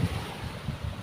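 Strong sea waves wash around a small fishing boat loaded with nets, with steady broadband surf and wind buffeting the microphone, plus low rolling surges throughout.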